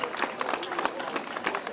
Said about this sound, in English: How about we give them a nice round of applause for the great work they do here in Southie.